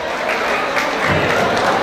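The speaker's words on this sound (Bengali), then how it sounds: "তাদের জন্য আমরা একটা করতালি দিতে পারি।" Audience at a Motijheel Model High School reunion in 2014 claps for the organizers, a loud, steady wash of applause lasting under two seconds with no speech over it.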